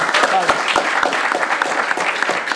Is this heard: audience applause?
yes